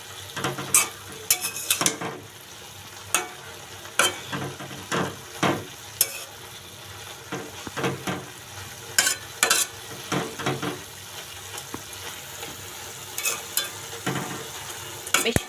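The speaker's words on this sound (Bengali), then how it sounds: "তো এখন নেড়ে চেড়ে সুন্দর করে শাকটা রান্না করব।" Mixed leafy greens sizzle in a pan as a spatula stirs and scrapes them in repeated close strokes, with occasional clinks against the pan over a steady frying hiss.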